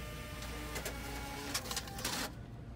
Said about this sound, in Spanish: Miren, ya está imprimiendo.